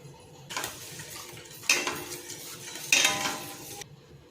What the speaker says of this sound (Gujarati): હવે આપણે એમાં એક વાટકીમાં થોડું ઓછું પાણી નાખીશું